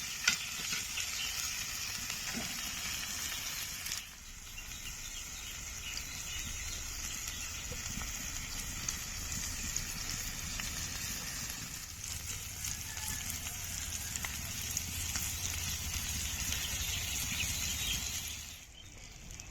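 Capsicums stuffed with chicken and egg fry in a pan over low heat, giving a steady, close hiss of sizzling oil that runs almost the whole time and dips near the end.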